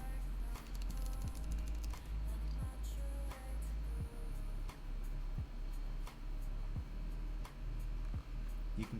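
Typing on a custom mechanical keyboard with tuned stabilizers, regular clacky keystrokes and deeper thocks from larger keys, close and steady over a persistent low hum.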